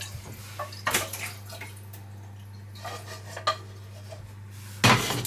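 Clattering dishes and a pan clank into a sink, several sharp metallic knocks and scrapes over a low steady hum, ending with a loud bang.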